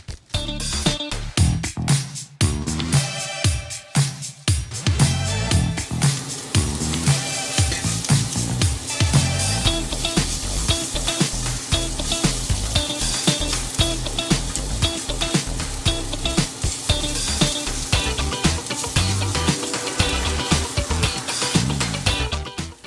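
Pre-made sausage fries in a pan inside an RV kitchen, a continuous loud crackling sizzle with busy stirring and scraping throughout, no voices over it.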